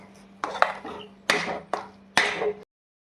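A spoon scrapes and knocks against a pan while yellow-coloured semolina modak mixture is stirred, giving four sharp close clatters in uneven bursts with no voices.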